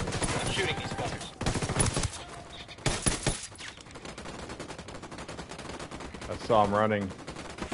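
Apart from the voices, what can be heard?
gunfire in video game Ghost Recon Wildlands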